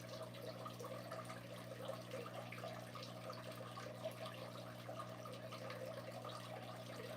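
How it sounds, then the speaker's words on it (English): Steady running water from a tap, a continuous soft wash of flow with a low constant hum beneath, moderately close and unbroken, with no voices present. "I love the sound of the running water."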